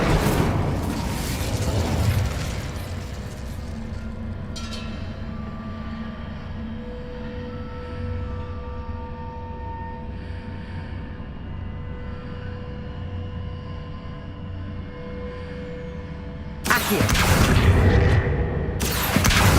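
An Incendio fire spell is cast in the Hogwarts Legacy video game, giving a loud, sustained roaring rumble that swells at the start, holds steady, then flares into a fresh blast near the end, with no voices.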